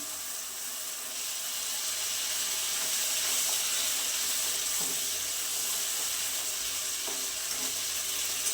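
Ground masala paste frying in oil gives a continuous bright hiss and sizzle, close and steady, with a few faint clinks underneath.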